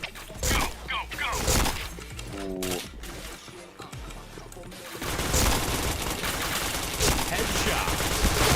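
Gunfire in a first-person video game shooter, with bursts of automatic fire and single shots crowding together. The shooting grows denser and louder toward the end and carries on under a voice and game sounds.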